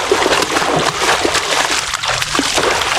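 Constant splashing and sloshing of water as someone swims in a village pond, loud and close, with no clear pauses between strokes.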